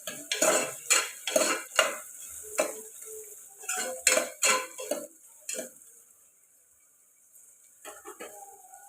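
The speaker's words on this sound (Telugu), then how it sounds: "ఇప్పుడు బాగా ఫ్రై అయ్యేలాగా కలుపుకుందాం" Metal spoon scraping and clinking against a pan while onions fry for a country chicken curry, a run of sharp rhythmic stirring strokes close by that pauses, then resumes briefly near the end; only faint sizzle underneath.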